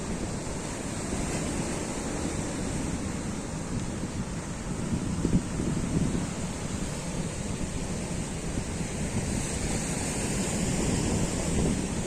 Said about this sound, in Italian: Belle onde ci stanno